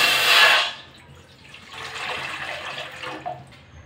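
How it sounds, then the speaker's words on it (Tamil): Water pours into a cooking pot for boiling cut potatoes, a loud rushing splash for about half a second, then a softer steady trickle continuing for several seconds. "இப்போ இதில் தண்ணி சேர்த்துக்கிறேன்."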